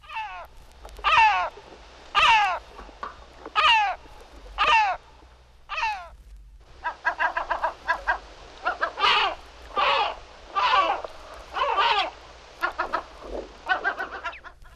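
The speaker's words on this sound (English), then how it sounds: "great black-backed gull." Great black-backed gull calling in a series of loud, harsh, descending barking notes, first spaced out and then in a faster run of repeated calls, heard alone and close.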